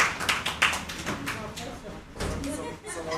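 Scattered audience clapping at an in-person mentoring session, a few sharp, close claps in an uneven rhythm mixed with movement and a voice speaking over it.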